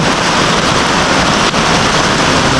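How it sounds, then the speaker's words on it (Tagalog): Heavy typhoon rain roars close and loud as an unbroken, wash-like hiss that fills the entire moment with no pauses. "Ayan oh, lakas na ulan oh."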